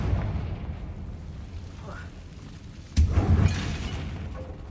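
A Confringo fire spell bursts in the Hogwarts Legacy video game, one sharp blast landing midway and trailing into a rumbling crackle over steady low background ambience.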